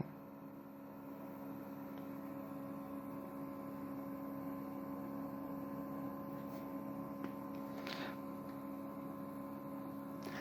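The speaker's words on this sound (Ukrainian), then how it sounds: "Бачимо, насос працює." A circulation pump running on backup power from an HP T1000 G3 UPS, a steady electrical hum with a mains-like buzz, constant and close, with a few faint clicks and rustles over it.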